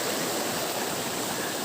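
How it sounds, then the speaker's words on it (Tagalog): Purikot Falls, a waterfall at a tourist spot in Libmanan, rushes with a steady, dense, full-band roar of running water, continuous and close with no voices. "mga buhay na tubig po yan"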